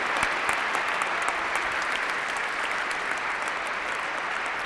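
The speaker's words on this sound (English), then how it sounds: "Warm applause for all of them together, the last 5 winners in the category Conservation." Warm audience applause fills a hall at a European heritage awards ceremony in Oslo City Hall, a steady, dense patter of many hands clapping that holds at an even level throughout.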